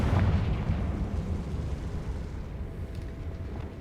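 A Confringo blasting spell exploding in the video game Hogwarts Legacy: one loud booming blast at the start that rumbles and slowly fades over several seconds, with no talk.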